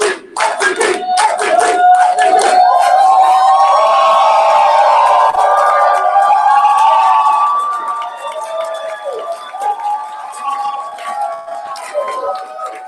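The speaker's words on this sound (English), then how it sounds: "on the count of 3, we're going to cheer, and then we'll do a 3 claps and go" A group cheers loudly and continuously for several seconds, then the noise fades into scattered voices and a few claps at a meeting.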